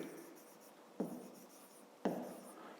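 Chalk or marker scratches across a classroom board during a fifth-grade maths lesson, in two short bursts of writing, each starting sharply and fading, close and fairly quiet with no talk.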